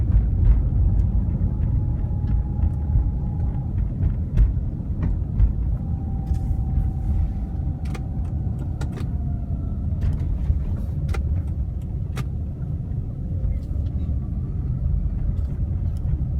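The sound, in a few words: car driving through airport roads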